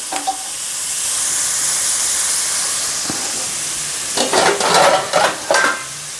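Spinach stirs and sizzles in a hot pan for a spinach egg bhurji, a steady frying hiss followed by several brisk scraping stirs near the end, with no talk.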